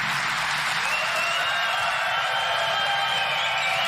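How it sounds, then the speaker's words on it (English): Snooker crowd at the 2023 German Masters applauds and cheers Jimmy White after his 5–2 defeat to Jack Lisowski, a dense, steady roar of clapping that holds loud and unbroken throughout. "Big cheer for Jimmy White."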